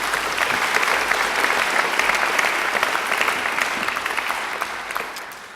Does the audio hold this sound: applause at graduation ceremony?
yes